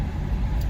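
A car rolls along a wet road, giving a steady low engine hum with a broad hiss of tyre and road noise, heard close up from inside the vehicle and without a break.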